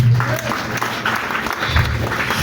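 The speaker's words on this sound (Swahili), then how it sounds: "Piga makofi kwa Bwana." Church congregation clapping in praise during a sermon: a dense, continuous spread of applause from many hands, fairly loud and steady, with a low murmur of voices underneath.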